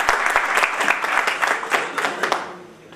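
An audience at a real estate seminar claps loudly and steadily for a few seconds, dense applause close up with no talking over it.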